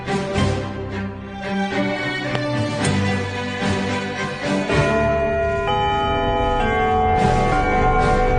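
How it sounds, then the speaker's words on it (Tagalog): A school exam bell rings in a dense, reverberant wash of sustained metallic tones lasting several seconds, loud and continuous with no talking. "Hintayin nyo muna yung bell bago nyo sagutan."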